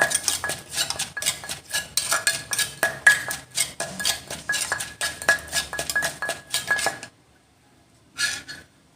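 Rapid, steady pounding and clinking of a pestle in a mortar mixing a spicy Thai cicada dish, many sharp strikes in a row, then a pause and a final short burst.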